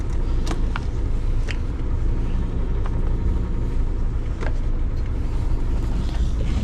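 Steady low engine rumble and road drone of a bus cruising over a land border crossing into Singapore, heard from inside the cabin, continuous and fairly loud with a few faint clicks and rattles.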